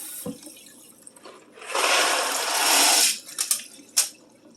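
Water runs into a bowl from a kitchen tap for about a second and a half, filling it to the brim to soak macaroni for a crock pot. A few small splashes and clinks follow.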